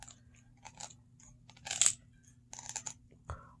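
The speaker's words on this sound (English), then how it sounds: "Why does it sound like you're chewing Captain Crunch, dude?" A dog chewing and tearing apart a toy, loud crunchy bites and snaps in irregular bursts close to the microphone, with quiet pauses between.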